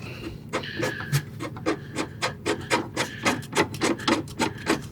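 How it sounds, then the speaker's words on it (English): A threaded rod being turned into the leveling-leg nut of a Fulgor Milano fridge column, a close, rhythmic rasping and scraping that repeats in even strokes about three times a second. "rethread that rod into this leveling nut, this nut here, which kind of can spin on an axis"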